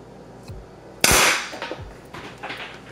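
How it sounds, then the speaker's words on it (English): A T4E .50 caliber pepper-ball gun fires at a cardboard target about 30 feet away, giving one sharp, loud crack followed by a fading ring, with a few faint thuds and clicks around it. "we're shooting at cardboard at about 30 feet away."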